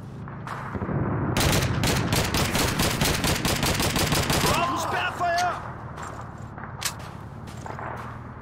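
Enemy gunfire in Call of Duty 2 comes as a rapid, sustained burst of loud, sharp shots lasting several seconds. A few scattered cracks follow, over a dense battle din.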